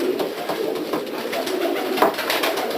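Male show pigeons coo in a loft, repeated soft rolling coos overlapping one another at close range, with light rustling in the background.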